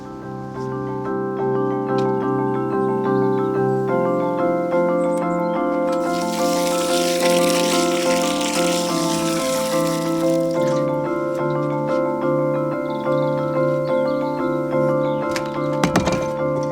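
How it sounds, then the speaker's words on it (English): Water pours from above into a freshly dug planting hole in a garden bed, a steady rushing splash for a few seconds midway, set under sustained, steady musical tones that run throughout. "I shall now fill it full of water and let it soak away"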